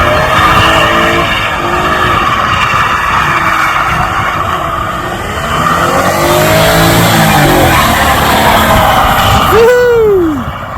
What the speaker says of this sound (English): We'll have to get it out, see if it'll burn some tyres off.